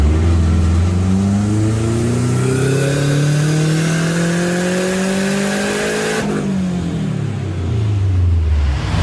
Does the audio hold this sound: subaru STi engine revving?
yes